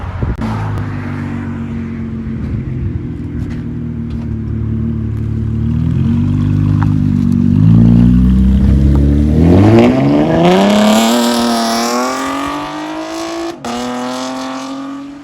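A 2012 Chevy Camaro with the 3.6L V6 and factory catalytic converters revs hard up close: a steady idle gives way to a rising, sustained roar that sweeps up in pitch, then holds high and loud near the end.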